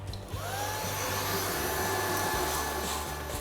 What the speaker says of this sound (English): we're going to hoover